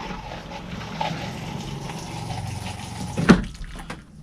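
A camper toilet flushes while the RV is being winterized: a steady watery rush with a short, louder gurgling surge near the end, heard up close with no talking.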